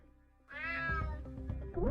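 A cat in the UnMetal video game lets out a single loud, drawn-out meow with a rising then falling pitch, close by. Lower game sounds run underneath.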